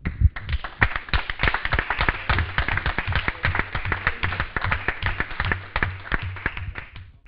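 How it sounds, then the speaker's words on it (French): Audience at a provincial council meeting applauds with dense, rapid clapping that runs steadily for the whole stretch, near and fairly loud with no talking. "moi je tiens à faire en sorte que vous applaudissiez"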